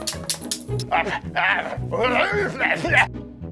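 Dogs indoors in a house yipping and barking in short, excited bursts, close and fairly loud, with some whimpering mixed in and a person talking over them.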